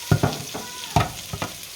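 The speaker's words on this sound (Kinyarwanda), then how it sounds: "arimo aravanga green pepper na yellow pepper" Green and yellow peppers are stirred in a frying pan. Several close scrapes and knocks of the utensil sound over a soft, steady sizzle.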